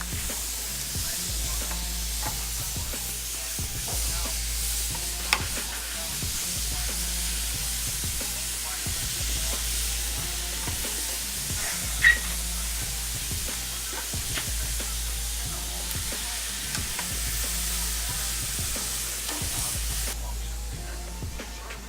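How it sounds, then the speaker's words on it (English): Marinated artichokes sizzle face down on a grill in a steady, even hiss, with a couple of faint ticks and no talking. "So we're ready to grill our artichokes."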